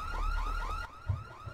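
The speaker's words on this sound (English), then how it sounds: "Why is there an alarm?" Car alarm in the video game Dead Island, a looping electronic whoop repeating quickly several times, fairly loud, cut off abruptly partway through, followed by faint thuds.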